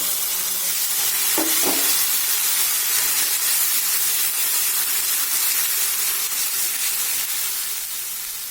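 Spice paste of onion, ginger, garlic and dried red chilli hitting hot oil with frying onions, a steady loud sizzle and hiss throughout with a couple of brief clinks from a utensil near the start.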